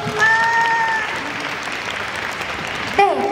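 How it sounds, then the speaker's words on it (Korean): Concert audience at a K-pop showcase claps after a girl group's performance, a steady mid-level wash of applause with brief high cheers or squeals early on and again near the end. "괜찮으셨다면 박수!"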